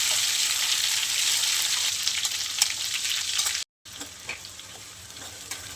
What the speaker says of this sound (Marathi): मोहरी चांगली तडतडली ना मी घरी बनवलेला मसाला टाकून घेते.